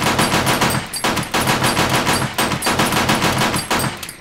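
Rapid automatic gunfire from a weapon in the survival game 7 Days to Die, loud and close, firing in sustained bursts with a few short breaks and no one talking.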